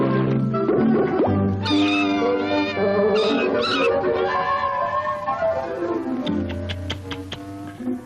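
Three kittens in a Tom and Jerry cartoon let out a run of high, tuneful meows and mewls that overlap and rise and fall, loud and close, without any talking.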